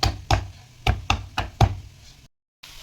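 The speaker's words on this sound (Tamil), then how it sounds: "ஒரு அஞ்சு பல்லு பூண்டை வந்து தோல் உரித்து இந்த மாதிரி தட்டி சேர்த்துக்கலாம்" Five peeled garlic cloves are pounded for an egg thokku, giving five sharp, close thuds in an uneven rhythm, then a brief silence.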